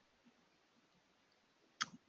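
A single computer mouse click on a browser extension, sharp and faint against a quiet background.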